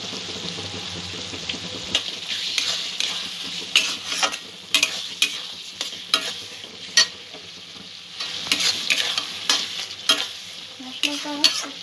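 Spice paste for chicken curry, with Kashmiri chilli and red chilli powder, being stirred and fried in oil, a steady sizzle broken by repeated scraping strokes of a spoon against the pan, close and fairly loud with no talking.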